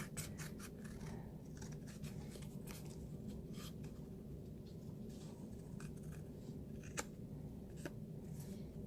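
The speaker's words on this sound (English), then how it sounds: "we're just going to take our scissors and we're going to cut that excess that is hanging over." Scissors trim excess paper overhanging the edge of a handmade card, giving soft, close scratchy snips and rustling over steady low room hum, with no talking.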